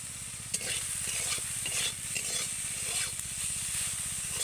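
Vegetables frying gently in a pan for egg momos, a steady close sizzle with light stirring scrapes and a few brief clatters, no talking.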